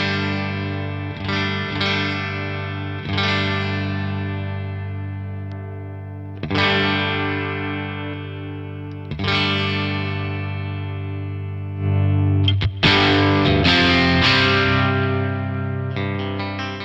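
Electric guitar through an Origin Effects Halcyon Green Overdrive pedal, with several strummed overdriven chords each ringing out and slowly decaying, then a busier flurry of picked notes near the end, played alone.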